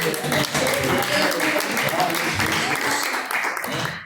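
A church congregation applauds in praise during a live Pentecostal service, steady clapping with voices mixed in throughout, fairly loud and continuous before tapering off at the end.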